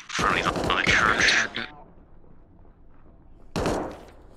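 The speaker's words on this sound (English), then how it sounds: "That was unsuppressed fire." Unsuppressed gunfire in the video game ARMA Reforger: a loud burst of shots with radio-style talk over it, a quiet pause, then another sharp report.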